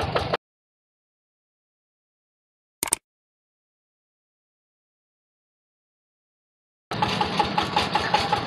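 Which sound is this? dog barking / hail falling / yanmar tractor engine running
yanmar tractor engine running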